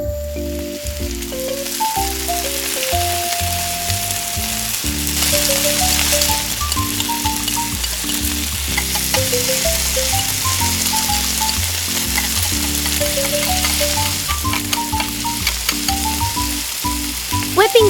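Butter sizzling in a tiny miniature frying pan, a steady crackling fizz running under a light melodic instrumental tune throughout.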